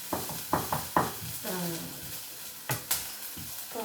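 Onions fry in a pan over high heat, crackling and sizzling with occasional stirring scrapes, close and moderately loud, with no one talking.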